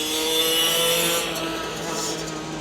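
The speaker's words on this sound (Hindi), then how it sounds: "आपने देखा कितना शोर बजाया इस बाइक ने" A loud motorbike roars past nearby, a sustained buzzing engine drone that swells and then gradually eases as it moves away.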